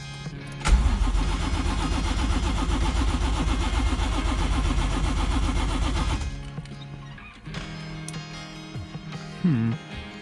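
A turbocharged 1JZ engine swapped into a Nissan S14 240SX fires up for the first time, cranking then catching into a loud, steady, rough idle that cuts off abruptly after several seconds, followed by a quieter restart attempt.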